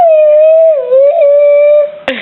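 A child imitates a dog's howl with one long, sustained, wavering vocal tone, loud and close, ending in a brief burst of noise.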